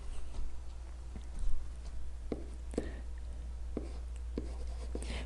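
Pen or pencil writing by hand on paper while working a math problem, with a run of short scratchy strokes and taps at close range, quiet and steady against a faint background hum.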